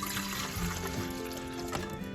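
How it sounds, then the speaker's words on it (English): Water pours into a percolator beside a 1950s wood cook stove, a steady liquid trickle and splash that runs unbroken for about two seconds at low level. "Let me put the water in."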